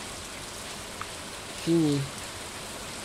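Rain falls in Stardew Valley, a farming video game, as a continuous soft hiss throughout, while someone briefly speaks one short word midway over the patter.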